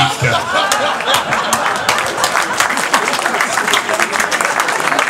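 Audience applause after a match in Senegal, a dense mass of hands clapping steadily and loudly throughout, with crowd noise and some voices mixed in.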